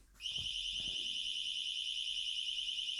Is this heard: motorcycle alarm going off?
yes